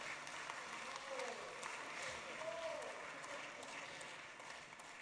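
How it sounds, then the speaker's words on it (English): Applause from the audience at an opening ceremony fills the hall, a continuous, moderately distant wash of clapping with a few faint voices mixed in. "Thank you for that warm applause."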